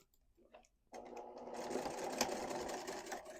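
A sewing machine stitches a quarter-inch seam on a quilted boxy cube bag, starting after a quiet moment near the beginning and then running steadily and close up, alone with no talk.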